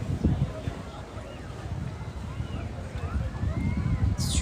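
Strong gusts of wind buffet the microphone outdoors, with low rumbling bursts throughout and no clear speech.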